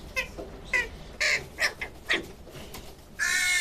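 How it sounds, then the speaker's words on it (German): A young carrion crow at a rehabilitation station for jackdaws, magpies and crows calls in a series of harsh, begging caws, about six close, loud bursts spaced unevenly, ending with a longer drawn-out cry. "Eine kleine Rabenkrähe."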